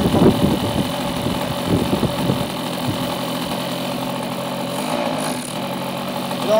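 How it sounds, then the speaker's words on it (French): A 46 AX two-stroke model airplane engine starting up after a few uneven catches, then settling into a steady close-up running drone that lasts to the end. "le moteur a démarré à l'envers, ça arrive souvent avec les 46 AX"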